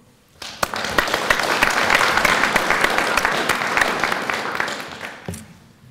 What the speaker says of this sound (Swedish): jag tycker vi ska ge dem en stor applåd.